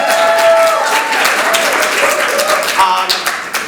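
Loud, close applause fills a theater at a monologue festival, a thick continuous roar of clapping that stays strong throughout, with faint scattered voices and whoops beneath it.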